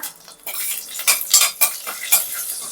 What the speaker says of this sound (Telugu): అయితే ఫేవరెట్ గరిట తీసుకొని అలా కలుపుతూ ఉండాలా?